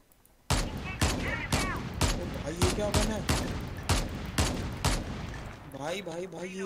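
Rapid, evenly spaced M21 rifle shots ring out in Call of Duty Mobile, a loud burst of about a dozen sharp cracks, with voices talking briefly near the end.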